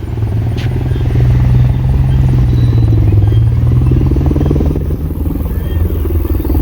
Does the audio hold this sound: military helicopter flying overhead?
yes